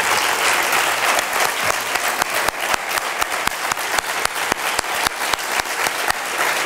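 An audience at a business gala gives a sustained ovation. Dense, loud applause fills the room, and individual sharp claps stand out in a steady rhythm.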